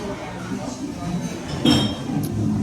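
Glasses of iced tea meet in a toast, giving a bright clink and then a second lighter clink over background room chatter.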